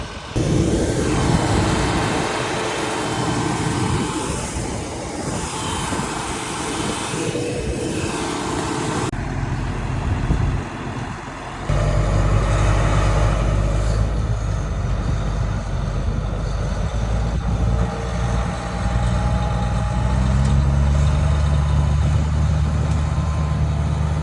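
Grain truck stuck in a harvest field, unloading into a combine, with heavy diesel engines droning and rumbling loudly and continuously, the tone shifting partway through as machinery grows heavier and lower.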